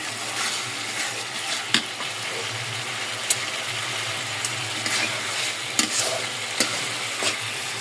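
Spice paste frying in mustard oil in a pot for meat curry, a dense continuous sizzle with sharp clicks of a ladle stirring and scraping at irregular moments, close by and without talk.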